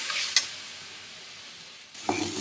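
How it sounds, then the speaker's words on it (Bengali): Onion and garlic paste with spices being stirred in a pan, a brief burst of sizzling and a scrape at the start, a quieter lull, then the frying hiss swelling back up near the end. "পেঁয়াজ রসুন পেস্ট দিয়ে দিলাম, দিয়ে ভালোভাবে আমি মিশিয়ে নিচ্ছি।"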